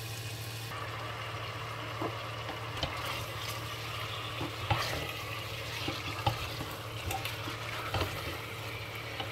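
Fish broth with sorrel simmering in a pot: a continuous close bubbling hiss broken by scattered light knocks of stirring.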